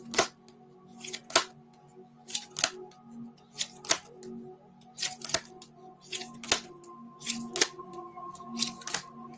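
Tarot cards are shuffled in a series of crisp riffling bursts, roughly one per second, close and distinct against a quiet room hum.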